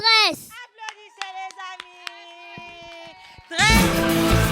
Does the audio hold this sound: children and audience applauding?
yes